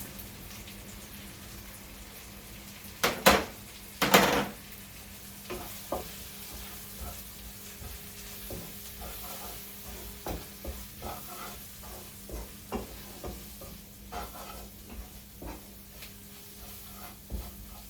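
Ground coriander, cumin and pepper powder sizzle in a pan for paneer butter masala, with two sharp bursts of stirring early on, then a steady low frying crackle and soft scattered scrapes.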